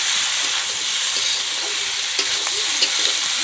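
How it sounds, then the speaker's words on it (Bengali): Chopped tomato is stirred into chicken curry frying in a pan over a constant sizzle, with several soft scrapes and taps of the spoon near the end. No voices are heard. "টমেটোটা দিয়ে আবার অল্প সময়ের জন্য লাড়াচাড়া করবো যাতে টমেটোটা"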